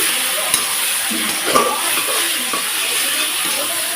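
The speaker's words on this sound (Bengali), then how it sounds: "এক চামচের মতন হলুদ ভালোভাবে কষিয়ে নিচ্ছি" Mutton sautéing with turmeric in a pan, a steady bright sizzle with occasional scrapes and stirs, close and continuous without talk.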